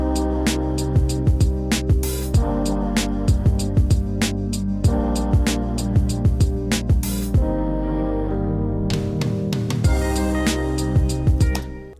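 Hip-hop beat transition section with the bass removed: crisp drum hits and layered chords keep a steady groove, briefly thinning out near the end before a final sustained fade. Loud, no voices.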